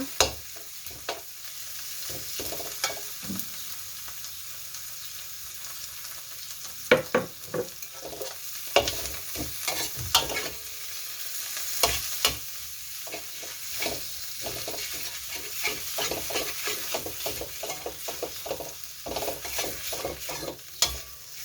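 Roasted chili paste stir-fried with rice in a pan for Thai tom yum shrimp fried rice, a continuous loud sizzle broken by repeated scraping strokes of a spatula, close up and without talk.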